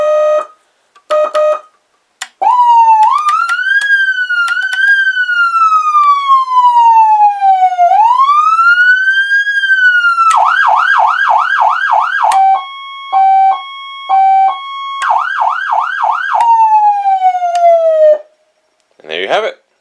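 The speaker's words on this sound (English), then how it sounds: "The most annoying air horn sound I've ever heard." A Federal Signal PA300 siren runs through its tones up close and loud: rising and falling wails, a fast pulsing yelp, steady two-note hi-lo alternations and short air horn blasts. No talking.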